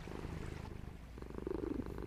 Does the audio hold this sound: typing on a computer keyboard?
no